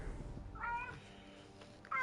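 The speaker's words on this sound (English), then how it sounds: "Ignore cat noises. They're just playing." Cats meow in short, bright calls during play, two brief bursts separated by a quieter stretch, heard over game background sound.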